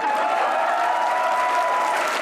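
Steady applause from a television comedy show studio audience, dense clapping holding at an even level throughout with no talk over it.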